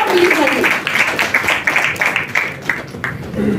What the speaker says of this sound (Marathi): जोरात तिला टाळ्या.